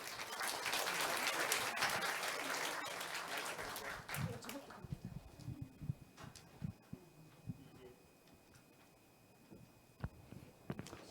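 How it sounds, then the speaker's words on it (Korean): Indoor applause for an architecture lecturer at a Seoul urban redevelopment academy session, dense clapping for about four seconds, then fading into scattered claps, shuffling and footsteps as the room settles. "뜨거운 박수 부탁드립니다."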